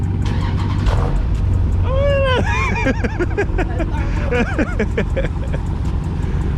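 A loud V8 engine of a 2021 Dodge Charger 392 Scat Pack starts and rumbles steadily at close range throughout, with people talking over it.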